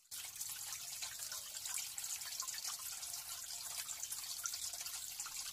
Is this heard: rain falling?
no